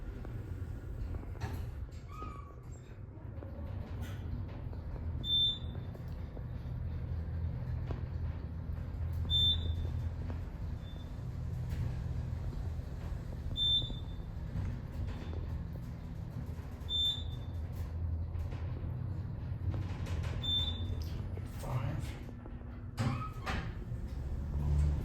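An Otis Gen2 elevator at LoHi House in Denver climbs from parking level 1 toward floor 5, its steady low cab hum running throughout, with soft high beeps recurring every few seconds as it rises.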